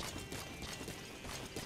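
Horse hooves clip-clop steadily in a video game, a continuous close rhythm of hoof strikes over a busy game soundscape.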